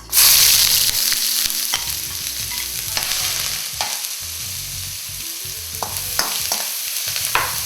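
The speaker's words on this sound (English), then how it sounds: "Fry the onions until it becomes a little brown." Onions frying in hot vegetable oil give a loud, close, steady sizzle broken by repeated spoon scrapes and stirring clatter, with no one talking.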